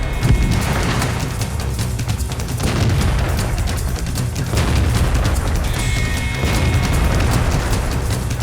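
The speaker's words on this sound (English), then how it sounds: "Hillary takes the high ground in the east and puts the autoloader to work." A Škoda T50 tank fires its autoloading gun in an online tank battle game. Heavy booming blasts and a dense rumble go on without a break, loud and close, with no talk.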